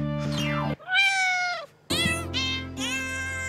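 Cat meows in the Jingle Cats video game, a series of loud, tonal synthesized-sounding meows with brief gaps between them, heard alone.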